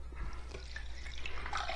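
Water drips and trickles as freshly dyed yarn is lifted out of a slow cooker filled with water and citric acid, a soft continuous splashing and dribbling close by with no talking.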